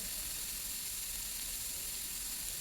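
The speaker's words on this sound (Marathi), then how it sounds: "हळदीची पावडर टाकल्यानंतर तीही ह्या मसाल्यामध्ये छान परतून घ्यायची" Turmeric powder sizzling as it is sautéed in a masala for dahi tadka, a steady, faint, even hiss of frying with no break and no voice.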